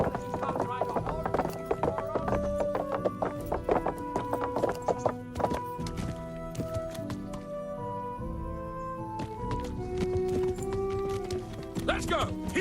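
Rhythmic clip-clop of horse hooves in the video game Kingdom Come over game music and effects, with a whinny and occasional thuds; voices talk over it.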